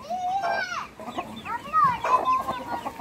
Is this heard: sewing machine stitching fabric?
no